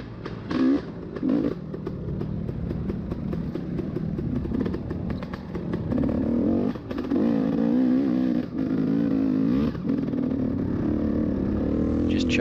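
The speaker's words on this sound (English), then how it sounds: "Just chug up that two-stroke power, man." A two-stroke dirt bike engine chugs and revs in uneven bursts from onboard during a muddy, rutted motocross race at East Fork, loud and close with clatter from the track.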